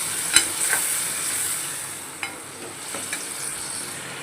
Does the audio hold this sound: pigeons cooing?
no